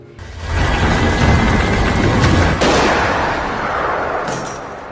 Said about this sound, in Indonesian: Tiba-tiba terdengar bunyi tembakan di tempat ritual.